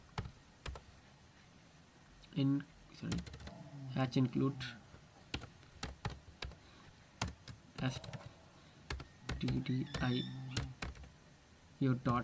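Computer keyboard typing while a C program with a while loop is written: scattered clicks and short bursts of keystrokes, moderately close, sounding under a man's intermittent speech.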